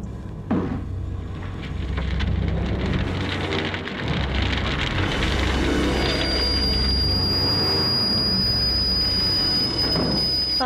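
Steady rain falling as a dramatized sound effect in a garden setting, a dense continuous patter with a low rumble beneath, holding loud and even throughout with no voices.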